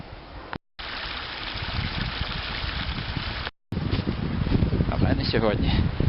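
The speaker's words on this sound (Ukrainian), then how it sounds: "А тут він розлився широкою поймою в кілька струмків." A shallow stream spreading across a wide floodplain in several channels gives a steady, close watery rush and trickle that carries on for several seconds, with brief dropouts and some wind or handling noise.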